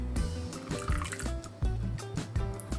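Melted butter poured into a foamy yeast and egg mixture for sausage roll dough, a short run of close liquid drips and trickles with a few sharper taps, no talking.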